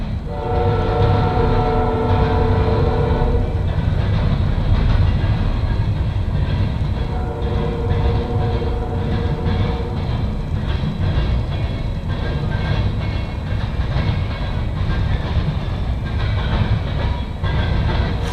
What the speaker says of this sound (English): Not a grain train. Oh, mixed freight.